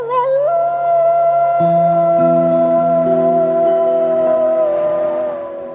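A wolf pack howling in snowy Alaska, several long sustained tonal howls overlapping at different pitches, loud and steady before fading at the end, with no talk.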